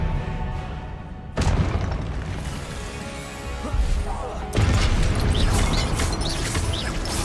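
Confringo blasting spell explosions in the video game Hogwarts Legacy, two heavy booming impacts a few seconds apart, each a sudden loud burst that lingers in a thick rumble among other combat effects.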